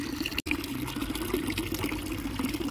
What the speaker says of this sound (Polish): A woda z takiej fontanny jest przepyszna i to jest woda pitna.